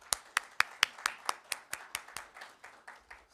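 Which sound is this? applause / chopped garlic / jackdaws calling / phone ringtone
applause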